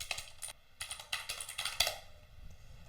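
A computer keyboard clatters with a brief burst of quick, close keystrokes in uneven clusters as a short search is typed, then falls quiet.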